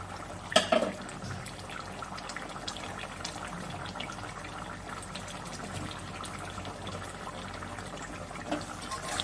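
A Bengali fish curry of bata fish with drumstick pods and potatoes, topped with chopped coriander, simmers in a pan with soft, steady bubbling and occasional drips, faint throughout, plus a brief clink near the start.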